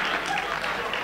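Audience applause at a school Dantedì event for a student named Paolo, a short continuous patter of clapping from a sizeable crowd with voices under it.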